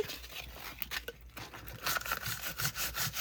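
Sandpaper of 220 grit rubbed lightly over a wooden stamp, giving close, dry scratchy strokes that grow steadier and denser in the second half, with no voices.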